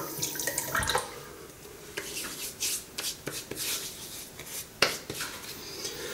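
Water splashes and trickles in uneven spurts, with occasional wet slaps and drips close by, no steady stream and no speech.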